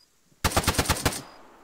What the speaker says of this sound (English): Taking lots of shots.